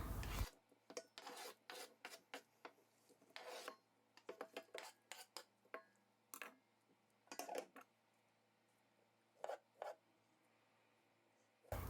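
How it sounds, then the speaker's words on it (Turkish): A knife slicing figs into thin rings for chopped fig jam, heard as a run of short, close rasping cuts in irregular bursts, with quiet pauses between strokes and no talking. "İncirlerimi şöyle halka halka ince şekilde doğruyorum."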